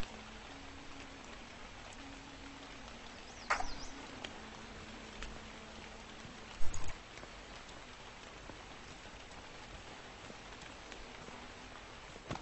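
Steady rain hiss fills the soundscape of the Cataclysm DDA video game, with a constant soft patter and a couple of brief louder ticks over a faint low hum.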